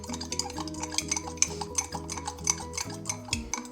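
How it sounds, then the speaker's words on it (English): A utensil stirring flour and water into a roux in a pot, with quick, close, repeated scraping and clinking strokes at a busy, uneven rhythm. "I'm just mixing that up to make kind of like a little roux"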